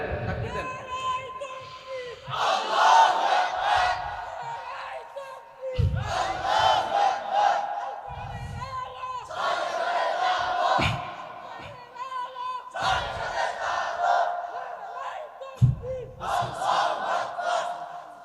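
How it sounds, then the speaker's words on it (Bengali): A crowd at a religious sermon chants takbir (Allahu Akbar) in loud, repeated unison bursts separated by brief pauses, with a single voice leading each call. "হ্যাঁ, তাকবীর দেন।"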